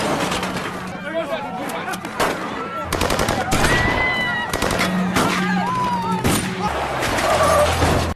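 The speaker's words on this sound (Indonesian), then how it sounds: "aksi baku tembak pun tak terelakkan lagi" Gunfire erupts in a film shootout at a market, with rapid bursts and sharp cracks over a dense, loud mix of crashes and background commotion, while voices talk and shout throughout.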